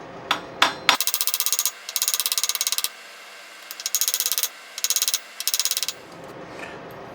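A flute-making workpiece in the style of Rudall & Rose gets tapped with a hammer: two or three separate knocks, then rapid bursts of ringing metallic blows, each run of several quick strikes divided by short pauses, loud and close.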